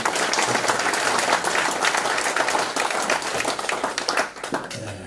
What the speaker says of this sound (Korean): 우리 격려의 박수를 한번 좀 해드리겠습니다